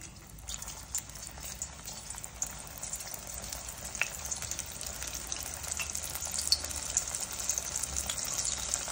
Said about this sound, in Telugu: అదే నూనెలో ఒక్కొక్కటిగా బెండకాయ ముక్కలను వేసుకోండి.